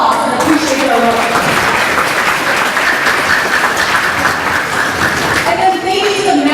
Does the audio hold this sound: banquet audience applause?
yes